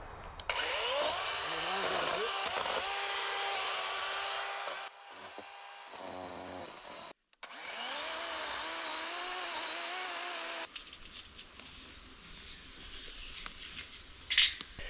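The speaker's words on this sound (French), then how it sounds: "j'ai pris ma scie électrique parce que ça fait moins de bruit" A distant electric chainsaw whines steadily while cutting wood, pausing briefly midway before running again, then idling down with faint background noise.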